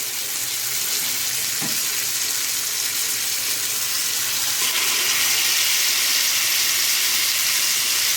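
Chicken pieces frying in hot oil and butter for tandoori chicken, a dense continuous hiss and sizzle that holds steady and close, with one faint knock and no talking.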